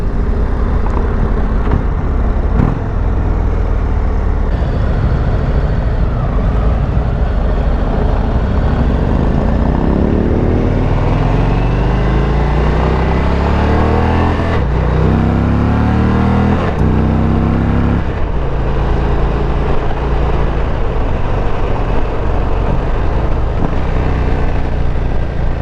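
An Indian Roadmaster motorcycle engine rumbles loud and close throughout a ride, rising and falling in pitch through repeated revs and gear changes over steady wind roar.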